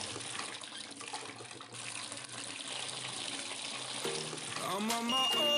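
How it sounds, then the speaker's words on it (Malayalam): Water runs steadily into a tank rigged with a homemade overflow alarm, a continuous gushing rush. Music rises near the end. "വെള്ളം നിറച്ച് നമുക്ക് അത് നോക്കാം"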